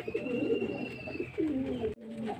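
A tame pigeon being handled by a pigeon keeper coos close to the microphone in soft, throaty rolling phrases, with a brief pause before one more low coo.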